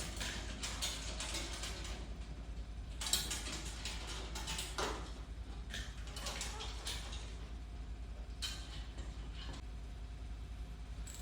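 Bolts being tightened on a catch basin inlet, with close ratcheting clicks in quick bursts over a constant low hum, broken by brief pauses.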